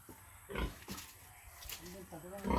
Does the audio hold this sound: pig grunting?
yes